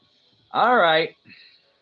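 A single drawn-out cat meow rising and falling in pitch, followed by a brief, softer second sound, close by in a quiet room during a live show.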